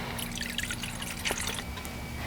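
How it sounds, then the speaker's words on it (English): Melted homemade night balm of oils is poured into a bowl, making soft, faint trickling and dripping sounds, with a few small splashes near the middle against a quiet room hum. "now we're gonna pour it in this bowl"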